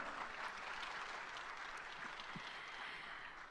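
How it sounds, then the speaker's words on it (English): Audience applause at an OPPO Reno smartphone launch event in India, a steady, dense wash of clapping that fills the room for several seconds with no voices over it. "That deserves a big round of applause"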